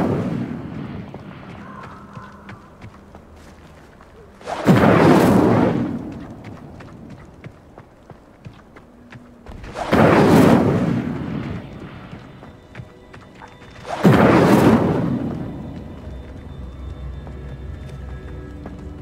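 Incendio fire spell blasts in a video game: three loud, roaring whooshing bursts, each swelling and fading over a couple of seconds, spaced several seconds apart over a low rumbling background.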